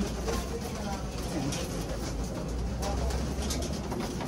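Pigeons coo repeatedly amid dense background noise and rustling, with a voice faintly present underneath.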